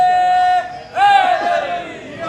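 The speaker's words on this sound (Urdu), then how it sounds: "بحریہ میں اتنے نعرے لگ رہے ہیں، معجزہ ہے نا اس مسجد میں اتنے نعرے" A crowd chants religious slogans inside a mosque at an Eid Ghadeer celebration in Bahria Town, Rawalpindi, a loud surge of many voices rising together after a single sustained voice, then tapering off.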